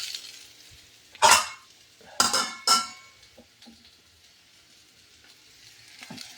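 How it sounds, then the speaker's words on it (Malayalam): Tamarind water is poured into a hot pan of frying ginger and green chillies, setting off three loud sizzling bursts that settle into a quieter, steady crackle. "അതുകൊണ്ട് നമുക്ക് പുളി ഒഴിക്കാം"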